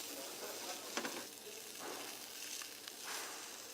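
Fish fillet frying in a pan, a steady close sizzle with soft crackles and a couple of brief scraping touches as it is flipped, no talking.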